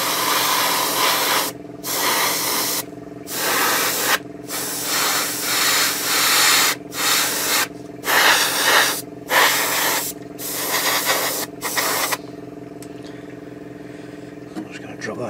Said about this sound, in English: I'm just going to drop that into the spray booth.